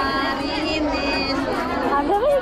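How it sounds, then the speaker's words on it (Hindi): A dense crowd chatters at a Hindu temple during Shitla Saptami worship, a continuous loud murmur of many overlapping voices nearby, with no single voice standing out. "भाई वो खतरनाक भीड़ है।"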